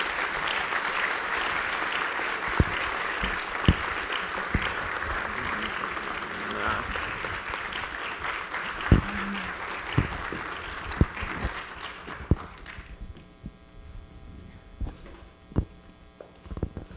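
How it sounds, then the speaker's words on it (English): An audience applauds a keynote speaker at an event on women and mass incarceration, a long, full round of clapping over a faint electrical hum that thins to scattered claps near the end. "A round of applause for our keynote speaker."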